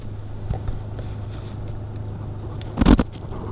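A manual car idles in neutral with a low steady engine hum, heard close from inside the cabin, and a short louder rustle or bump near the end.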